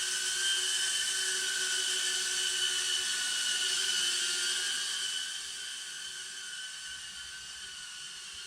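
Small indoor whoop FPV drone flying, a steady high-pitched propeller whine that holds constant, then drops slightly in level partway through, close and continuous with no talk.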